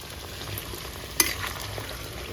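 Carrot pieces fry in a pan of hot oil, giving a steady soft sizzle throughout with one brief sharp crackle in the middle.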